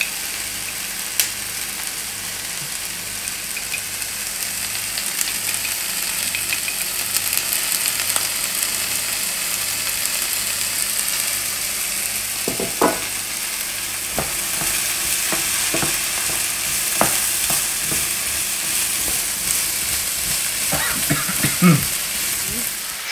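Vegetables frying in olive oil over modest heat, a constant close sizzle with a low background hum, then intermittent stirring knocks and scrapes in the latter half.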